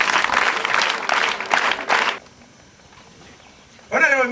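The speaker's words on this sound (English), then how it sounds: "Can we give them a general applause?" An audience at a school celebration gives a general round of applause, a loud burst of many hands clapping that stops after about two seconds, followed by quiet and then a voice speaking.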